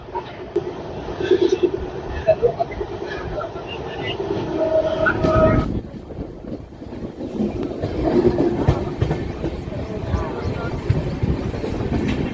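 A Satavahana Superfast Express made up of new LHB coaches runs along the line, its steady rumble and rattling wheels filling the interior, with a brief dip in the din midway before the loud roll resumes.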